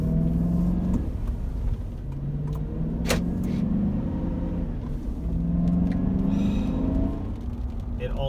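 The deep, rumbling 5.3 liter V8 of a 2005 Chevrolet Suburban with 180,000 miles idles and growls steadily, with low harmonic swells rising and falling across the clip.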